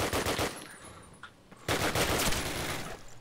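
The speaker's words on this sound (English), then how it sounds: "Yeah, they're on the machine gun." A mounted machine-gun turret fires in Call of Duty: United Offensive during a team deathmatch, loud sustained automatic bursts broken by a brief pause before the firing resumes heavily.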